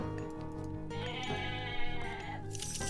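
Goats bleating in the strategy game Age of Mythology, a couple of wavering animal calls over steady game music and ambient sound, moderately loud.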